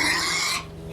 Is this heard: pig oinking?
yes